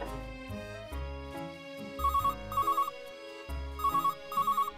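A melodic phone ringtone plays loudly, its bright chiming phrase repeating in quick pulsing bursts over a synthesized backing.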